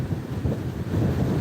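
Boat speeding up across open water, heavy rushing wind buffeting the microphone and churning waves filling the short stretch, loud and close, with no voices.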